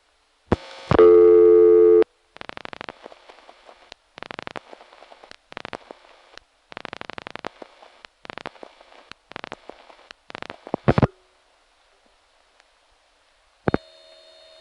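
An unusual ringback tone on an unanswered call through an old Slotsburg crossbar telephone exchange, with a burst of tone followed by a long run of choppy, stuttering pulses and clicks, then silence and a final short tone.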